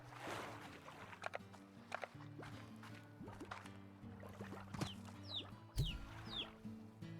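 Chickens in the video game Slime Rancher cluck in short, scattered bursts amid soft game background noise, the calls fairly quiet and intermittent.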